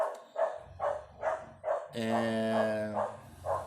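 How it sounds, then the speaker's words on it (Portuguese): A dog barks repeatedly out on the street, a steady series of about seven loud, evenly spaced barks heard from somewhat nearby. "é cachorro na rua"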